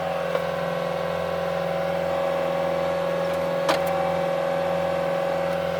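Caterpillar 257D compact track skid loader engine held at high revs near 2,600 RPM, a steady close droning hum with strong tonal whine, with a brief clank partway through.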